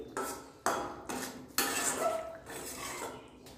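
A spoon clanks against a metal cooking pot as paneer is stirred into gravy. Several distinct metallic knocks come in an irregular rhythm, close but fairly soft, with no voices.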